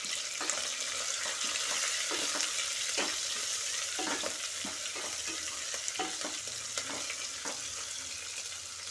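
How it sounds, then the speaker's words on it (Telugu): Onions, green chilies and curry leaves frying in a pan for an Andhra-style bottle gourd dal: a steady close sizzle with repeated scraping stir strokes and small pops, no voices. "ఇప్పుడు ఇందులో ఉల్లిపాయ, పచ్చిమిర్చి, కరివేపాకు వేయాలి. ఇవి మంచి రంగు వచ్చే వరకు ఫ్రై చేయాలండి."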